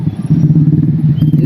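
Motorbikes in a street parade give off a loud, steady engine rumble with some clatter, heard up close for the whole stretch. People talk over the engines.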